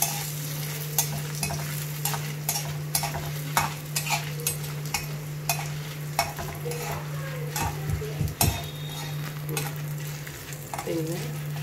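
Dried chilies fry in hot oil for a tomato chutney, giving a constant close sizzle with regular scraping stir strokes of a spoon against the pan and occasional metallic clinks, plus a steady low hum behind.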